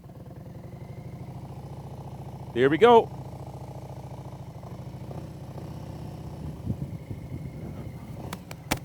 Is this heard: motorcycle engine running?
yes